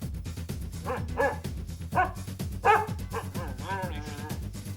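Dog barking sound effect in a yo-yo tutorial: several short, moderately loud barks at uneven intervals, ending in a whiny yelp, over a low background rumble.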